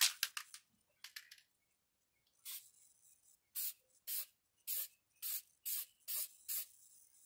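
Kimball Midwest Ultra Promax paint in International Red being sprayed from an aerosol can in a series of short bursts, about seven evenly spaced hissing sprays after a few quicker puffs, close and fairly quiet with no talking.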